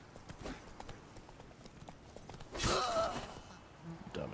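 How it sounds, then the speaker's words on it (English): Horse hooves clip-clop at a steady walking pace in The Witcher 3, faint and close, with a brief louder rush of game noise midway and a short snort-like sound near the end. "You wanna go, horse? You're a strong horse."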